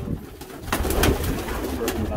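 Brick red racing pigeons coo in a loft, repeated soft throaty calls from several birds close by, with faint movement and rustling around them.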